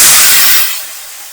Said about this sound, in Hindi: और उसके बाद इसमें डालेंगे हम ये कढ़ी का घोल।